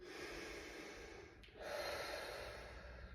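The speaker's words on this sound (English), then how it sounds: "3 breaths through the nose" Faint, quiet breathing through the nose during a core fascial exercise: an exhale, a brief pause, then a drawn inhale, soft and close with no speech.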